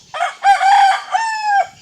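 A chicken gives a short run of loud, close, tonal clucks and squawks lasting under two seconds, with no voices.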